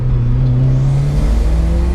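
A 1994 Toyota Celica GT-Four ST205 with a 2-litre turbocharged engine and four-wheel drive pulls hard, a steady loud engine drone climbing in pitch as it accelerates, heard close and alone.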